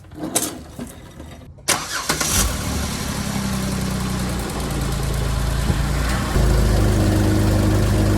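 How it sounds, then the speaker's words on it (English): A 2008 Jeep Wrangler's engine cranks briefly and catches, then settles into a steady, close idle that runs to the end, lifting slightly in the last seconds. "We got the engine running."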